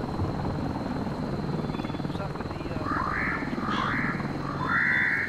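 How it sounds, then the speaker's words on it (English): Military helicopter passing over a combat zone, a steady low rotor thrum sustained throughout with rising loudness toward the end, mixed with distant voices and background noise. "Helicopter possibly?"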